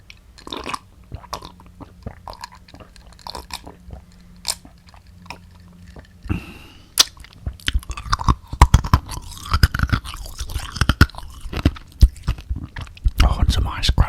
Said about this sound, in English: Oh, and some ice crunching for you there